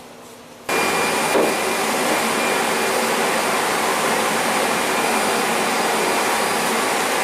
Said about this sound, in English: You're going to be hearing a lot of fans going on,